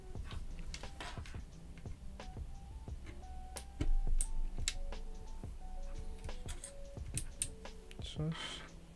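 Brisk clacking of keys as someone test-types on a freshly built mechanical keyboard, irregular bursts of crisp clicks close to the mic, with a voice murmuring underneath.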